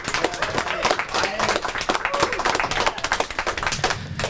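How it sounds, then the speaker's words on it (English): An audience at a storytelling slam final claps in a dense, uneven burst of applause that stays lively and close for several seconds, with scattered crowd voices mixed in. "our next storyteller is, big round of applause,"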